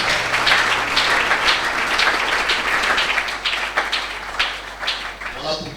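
A church congregation bursts into sustained, loud applause, dense clapping filling the room steadily throughout with some voices rising underneath.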